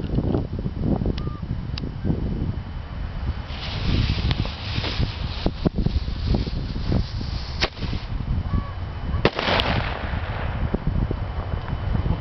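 Small bottle rocket fireworks going off outdoors, a series of sharp cracks and whip-like bangs spread through the stretch with a faint whooshing hiss between them.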